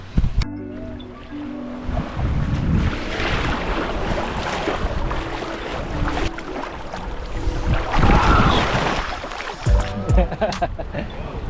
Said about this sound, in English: The ocean's awesome.